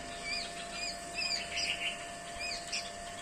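Thin, high-pitched chirps from a baby sparrow repeat in quick bursts over a steady electrical hum, close by and fairly loud.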